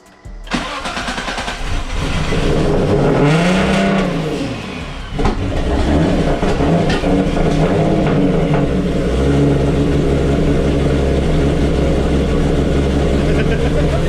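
A car engine cranks, catches and settles into a steady, loud running idle with some revving, close by, after work to fix a small engine fault; people talk over it.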